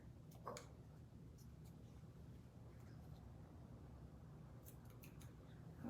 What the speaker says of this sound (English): we'll just cut these strings a little bit shorter